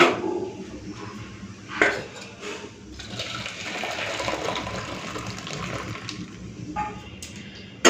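Cooked lentil dal is poured from a pot in a continuous wet, sloshing stream, with metal pot clinks at the start and close by.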